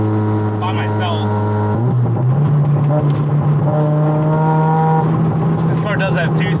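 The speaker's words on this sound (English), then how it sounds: "This is my first time like actually driving a Rotary in boost by myself." A 460 hp Mazda RX-7 rotary runs under boost on a wet road, its engine a loud, buzzing, steady drone that shifts pitch near the middle and holds close, with a voice talking over it.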